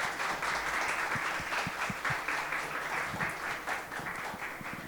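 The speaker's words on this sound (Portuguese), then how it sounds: "Uma salva de palmas para essas brilhantes mulheres" An audience at a women's business award event applauds a group of women entrepreneurs, moderately quiet, continuous clapping with a few sharper individual claps and no talking.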